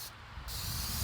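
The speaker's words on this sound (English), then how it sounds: "We are lightly spraying the inside, not the burner compartment, just the cooking compartment." Short close hiss of a spray can coating the inside of the cooking compartment of a Masterbuilt 30-inch propane smoker, model MPS230, one steady burst with a brief gap near the start.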